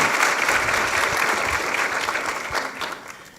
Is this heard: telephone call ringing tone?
no